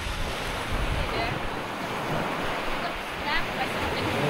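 Surf and gusting wind at Pantai Rambak, a beach, roar continuously and fairly loudly, with waves washing in a steady broadband rush and wind buffeting the microphone throughout.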